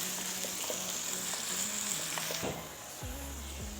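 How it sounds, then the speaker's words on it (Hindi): Ginger-garlic paste frying in a pan with onions, a steady broadband sizzle with a few soft stirring clicks, dropping slightly quieter near the end as a low hum rises beneath it. "अदरक और लहसुन को भी हमने थोड़ा सा भून लिया।"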